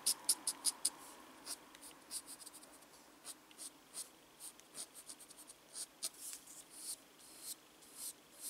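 Unison soft pastels rub against paper while drawing, a series of soft, dry scratchy strokes in irregular rhythm, close and faint, with a few quick taps at the start.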